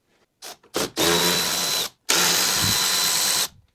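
A power drill backs out T25 Torx screws from the side of a radiator during an N43 engine removal, with a short stuttering start and then two sustained whining bursts close by, separated by a brief pause.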